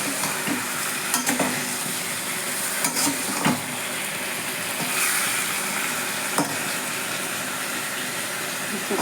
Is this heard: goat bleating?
no